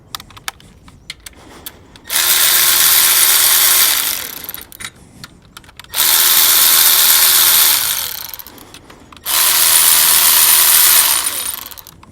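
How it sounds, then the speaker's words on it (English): Three separate bursts from an impact or power tool on the bolts of a leaking HT6 AC compressor in a GM OBS Chevy/GMC truck, each lasting roughly two seconds, loud and close, with short quiet gaps between them. "But we can go ahead and pull these bolts now."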